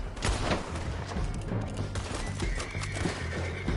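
Gunfire in the video game Red Dead Redemption 2 during a canyon horseback chase, a dense rattle of shots and booms packed close together over a few seconds, loud and without any talking.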